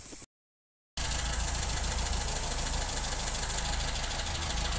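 A Seat 124 engine with upgraded carburetion and exhaust runs at a steady idle, loud and close, with a brief cut to silence near the start before the continuous rumble resumes.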